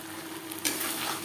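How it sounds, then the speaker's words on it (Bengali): Boiled potatoes with spices fry in a pan, a soft steady sizzle with a brief stirring scrape partway through, quiet and close. "3-4 মিনিট নাড়াচাড়া করে নেব।"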